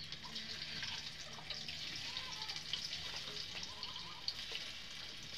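Boiled potatoes frying in hot oil make a steady, hissing sizzle with small popping bubbles, fairly quiet and continuous.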